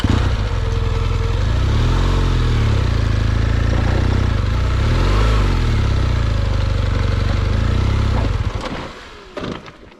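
A motorcycle on Michelin Anakee Adventure tyres, stuck on a rough off-road trail, revs hard and close in a loud, continuous drone that rises and falls in pitch several times. It then cuts out into clattering and quiet near the end.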